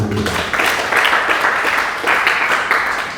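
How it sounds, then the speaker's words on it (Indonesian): Church congregation applauding during an Indonesian sermon, a dense wash of many hands clapping loudly and steadily for about three seconds, swelling slightly midway, with no talk over it. "Kasih tepuk tangan dulu."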